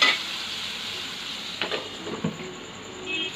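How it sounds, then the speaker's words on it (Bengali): Potatoes and garam masala fry in oil left from frying a katla fish head, giving a faint, soft sizzle with a couple of light utensil knocks near the pan and no voices. "মাছের মাথাটা যেহেতু আগে ভেজে রেখেছি, ওই তেলেই এইগুলোকে ভেজে নেব।"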